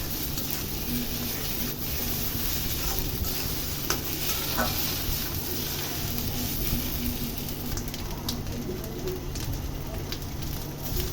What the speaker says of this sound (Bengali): চুলায় কড়াই দিয়ে এর ভিতরে সরিষার তেল দিয়ে এটাকে আবার একটু ভাজা মতো করে নিতে হবে